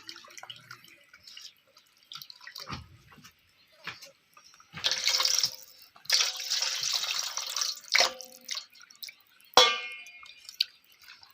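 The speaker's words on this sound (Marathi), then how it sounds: "तीन पाण्याने चिकन स्वच्छ असं बघा धुवून घेतलेले" Raw chicken is sloshed and rinsed in water in uneven bursts of splashing, dripping and pouring, close by with brief quiet gaps.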